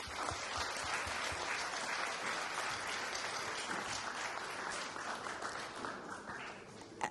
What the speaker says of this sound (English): So please join me in giving everyone who contributes to the school a round of applause.